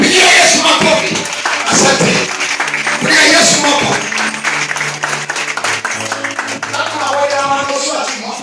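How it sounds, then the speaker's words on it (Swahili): A church congregation claps loudly for Jesus, dense applause rising and falling in waves, with a voice and some musical tones sounding over the clapping. "Pigia Yesu makofi"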